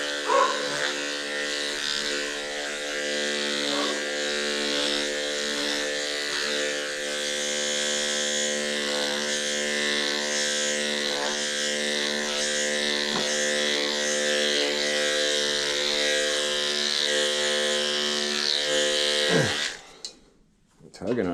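Electric grooming clippers buzz steadily on a standard poodle's coat, a close, continuous drone broken by small changes in pitch as the blade moves, then cutting off near the end; a voice may speak faintly beneath it.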